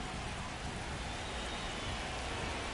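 Steady, even hiss of rain at a ballpark in the baseball video game MLB The Show 25, a constant wash of falling drops with no other sounds over it.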